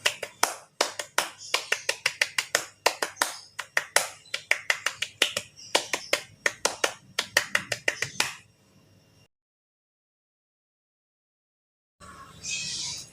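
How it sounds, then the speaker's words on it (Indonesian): A group does the Indonesian scout rhythmic clap in a scouting class, sharp hand claps set in patterned bursts and pauses for about eight seconds, then silence before a faint noise returns. "mari kita tepuk pramuka terlebih dahulu"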